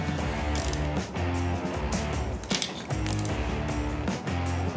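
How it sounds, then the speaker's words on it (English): A ratchet works on the brake caliper bolts of an XR650R supermoto, giving bursts of rapid clicking that pause and restart, over background music. "I will pull each bolt out one at a time and put just a little dab of Loctite on them."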